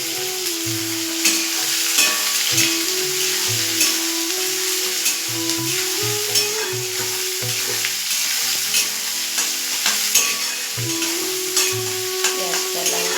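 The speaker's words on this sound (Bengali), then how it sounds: "তেলের উপরে দিয়ে দিলাম। পেঁয়াজটাকে দিয়ে দেবো এরপরে।" Chopped onion frying in hot oil with chilli for a chicken khichuri: a steady, close sizzle that continues throughout, with stirring scrapes and bubbling crackles over it.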